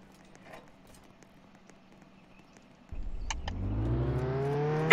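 A car in Roblox Jailbreak starts up after near silence and revs steadily, its engine pitch climbing continuously over a couple of seconds, loud and close with a couple of sharp clicks as it kicks in.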